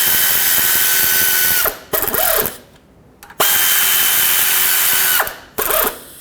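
Bolts on a 2003-2021 Chevrolet Express oil pan are run down with a power tool. Two loud, close, sustained whirring runs each end in brief ratcheting stutters, with a quiet gap between them and no talking.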